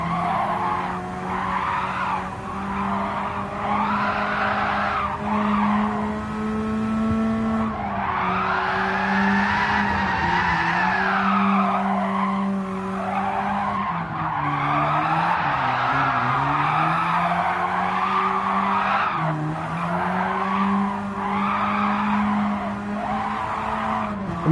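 A Radical race car at Road Atlanta skids and drifts through repeated turns, tires squealing in long wavering bursts over a loud, droning engine that rises and falls throughout.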